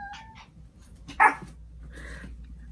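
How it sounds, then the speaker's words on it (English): Dog giving a single short, sharp bark indoors amid faint whimpering sounds and low background noise, fairly quiet overall. "What are you barking at her for?"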